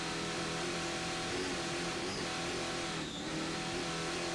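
Racing powerboat with twin 1,500 horsepower Stotler engines in a 50-foot Mystic hull, Superboat Unlimited class at the Key West world races: a loud, continuous, steady engine roar held throughout, with no voices.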